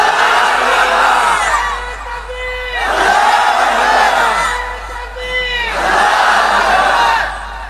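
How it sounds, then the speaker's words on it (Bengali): A crowd at an Islamic sermon (waz) shouts the takbir in unison in three loud, sustained waves, each rising and then fading before the next, close and filling the space. "তাকবীর খাড়াই করে দেন, খাড়ানো তাকবীর।"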